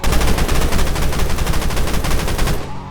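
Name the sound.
gunfire in a video game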